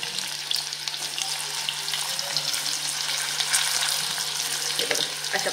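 Stuffed ridge gourds set into hot oil tempering with asafoetida, sizzling in a steady close hiss throughout, with a faint low hum underneath.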